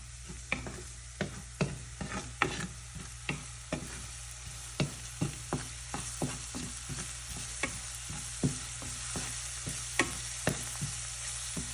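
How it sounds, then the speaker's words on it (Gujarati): Two chopped garlic cloves and two small green chilies sauté in hot oil in a pan, with a steady soft sizzle and frequent light scrapes and taps of a stirring utensil, close and alone. "જે મેં 2 નંગ લસણની કરી લીધી છે અને 2 નાના મરચાં લીધા છે. એને આપણે સાંતળીશું."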